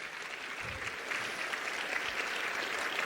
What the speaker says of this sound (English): A big clap for Jordan's presentation